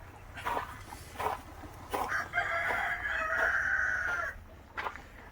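Inside a poultry shed for parent-stock country chickens, hens give short bursts of clucking, then a rooster lets out a long crow. A dog-like bark sounds near the end, over a constant low hum.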